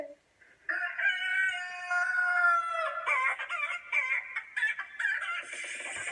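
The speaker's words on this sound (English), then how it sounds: "We're gonna be listening to Crazy Chicken." Crazy Chicken ringtone blares a loud electronic-sounding rooster crow followed by rapid, rhythmic clucking and squawking phrases, continuous and close with no talk over it.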